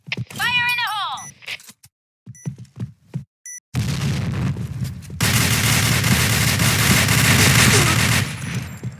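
Grenade blasts and gunfire in the shooter Point Blank: short voice lines and chirpy effects first, then a sudden loud explosion rolling into a sustained roar of dense firing.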